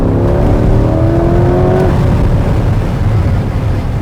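A Corvette V8 engine revs hard to redline and climbs in pitch, then the tone drops away into a loud, steady roar.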